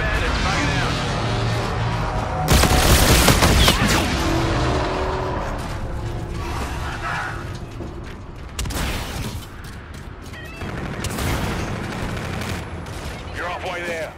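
Bursts of gunfire and explosions in the Call of Duty game Infinite Warfare, with heavy blasts near the start and middle and steady rattling shots throughout, under radio-style voice callouts.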